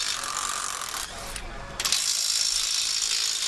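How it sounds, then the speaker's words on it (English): NASCAR pit crew changing tires and working lug nuts during a pit stop at Road America in 2021: a loud, continuous mechanical whirring and rattling with a short dip in the middle before surging back up. "while they're doing the tire change."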